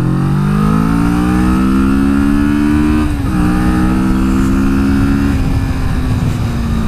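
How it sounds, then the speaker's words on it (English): A Kawasaki Vulcan S middleweight cruiser motorcycle is ridden at full throttle, its engine loud and close, the pitch climbing steadily through a gear, then dropping briefly at each of two shifts before rising again. "So first test is going to be a full throttle one"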